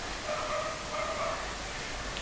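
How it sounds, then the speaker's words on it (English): Dogs bark in the distance, a few muffled yips and barks repeating over a steady background hiss, faint and somewhat far away. "oh, fucking dogs"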